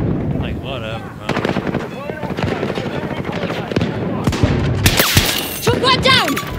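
Rapid gunfire and bursts in the shooter game Battlefield 2042, with dense overlapping shots and impacts, a loud close burst near the end, and shouted in-game voice callouts throughout.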